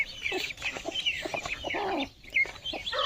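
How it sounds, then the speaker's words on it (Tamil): Country chickens and chicks at a farmyard home in the Kolli Hills, giving dense overlapping clucks and high peeping chirps close by, busy and continuous with no voices. "இங்கே பாரு கோழி குஞ்சு."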